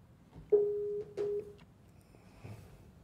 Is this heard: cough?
no